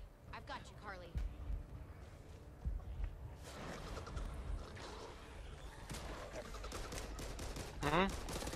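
Gunfire in the Back 4 Blood video game rattles in bursts through the clip, with a sharper volley near the end, mixed under game sounds and chatter from players talking.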